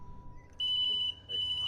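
Two shrill electronic beeps, each about half a second long, sounding close, over a faint steady hum.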